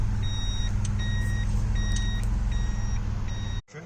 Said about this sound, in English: Oh yeah, the JDM reverse beep.